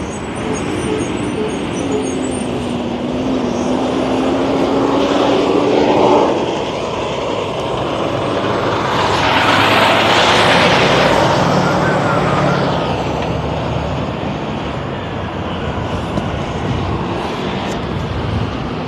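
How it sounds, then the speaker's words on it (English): From inside a moving truck on a breezy Louisiana road, a steady engine drone and road rumble carry on without a break, swelling a couple of times as wind and passing traffic rise, with occasional faint talk. "Truck sounds weird."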